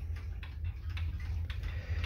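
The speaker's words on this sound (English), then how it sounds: "This one is actually my second mechanical clock." A mechanical clock ticks steadily and faintly, about two evenly spaced beats per second, alone against a low background hum.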